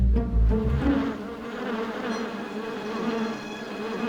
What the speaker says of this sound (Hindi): मेरे दरवाजे के सामने इतना बड़ा मधुमक्खी का छत्ता किसने रख दिया?